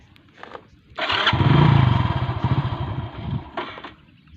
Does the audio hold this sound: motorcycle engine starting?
yes